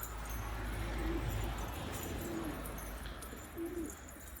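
Soft pigeon coos repeat a few times against a steady outdoor background rumble in Gaziantep, fairly faint and spaced apart.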